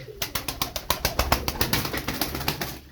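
A tumbler pigeon beats its wings in a rapid, regular series of about a dozen sharp flaps, close and fairly loud, tapering off at the end.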